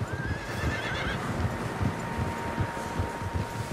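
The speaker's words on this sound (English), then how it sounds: "Horses, quite a few of them." Several horses in the Red Dead Redemption 2 video game whinny and neigh over a steady rumble of hoofbeats and clip-clop, close and continuous throughout, with no talking.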